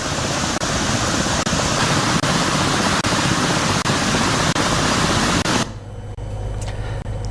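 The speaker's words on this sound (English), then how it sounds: "all sluice gates of the Nachadua Reservoir are currently open, releasing excess water into the Malvatuoya" Heavy water pours through the open sluice gates of Nachadua Reservoir into the Malvatu Oya as a steady, loud broadband roar, cutting off sharply near the end to a quieter low rumble.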